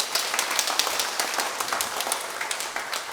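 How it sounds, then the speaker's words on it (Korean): A church congregation applauding after a musical performance at a Sunday worship service, steady scattered clapping from many hands, moderately loud, with no voices over it. "박수를 한번 해주세요"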